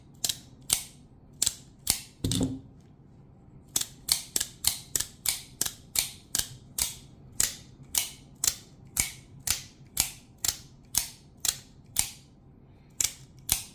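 Lightning Elite OTF knife blade firing and retracting repeatedly after a sand torture test, a rapid series of sharp mechanical clacks in a steady rhythm, close and loud, with one slower catching action early on.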